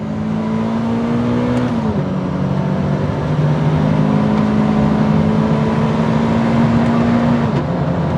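Supercharged Toyota GT86 engine pulling hard under acceleration, a steady loud drone with rising harmonic tones through gear changes, close and continuous with no talking.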